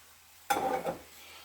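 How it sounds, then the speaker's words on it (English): Chopped parsley mixture for mushroom bruschetta being stirred together, a single short burst of scraping and mixing lasting about half a second against a quiet background, with no talking. "Stir that together."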